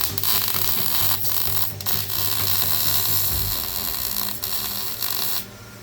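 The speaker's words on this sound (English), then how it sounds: "I'm about to do some of the longest welds I've ever done in my life." Welding on a SEMA show car build gives a loud, close, continuous buzzing crackle that holds steady for several seconds before cutting off near the end.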